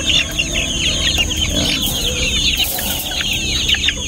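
Roosters cluck and call continuously in a dense, overlapping flock chatter, fairly close and steady throughout, with no talking.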